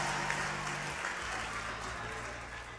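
Audience applause at a sermon, a brief burst of clapping fading under a speaking voice.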